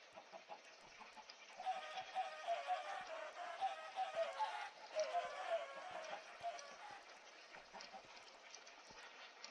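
Several Minecraft chickens cluck and chatter softly in a busy, overlapping flurry, fairly faint, with quick rhythmic pecking-like taps underneath.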